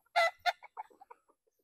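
A Kelso-Sweater gamefowl hen gives two loud, close clucks, then a string of softer, fading clucking notes.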